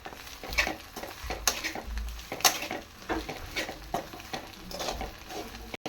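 A spoon or spatula scrapes and stirs egg fried rice with masala powder in a hot pan, giving irregular clinking strokes and rustling over a soft sizzle, with no talking.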